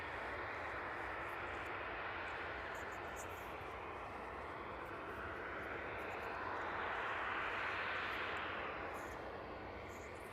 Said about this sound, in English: So the DHL 757 turning onto the DHL apron there.